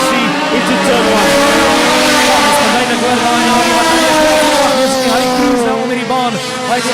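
A 2.1-litre Audi A3 hot rod race car laps an oval track, its engine a loud, continuous droning roar with wavering pitch as it holds speed, joined by other cars and a commentator's voice.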